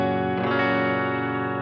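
A Telecaster-style partscaster electric guitar on the neck pickup with reverb, one chord struck and left ringing with a lush, sustained reverb tail.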